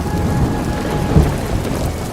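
Heavy rain with thunder: a dense, steady downpour hisses loudly and close, with a low rumble of thunder rolling underneath and a brief swell near the middle.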